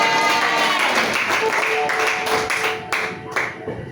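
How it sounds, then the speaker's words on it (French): A church congregation breaks into applause and cheering, dense clapping and raised voices that swell and then gradually thin out toward the end. "Il faut dire Amen avec acclamation"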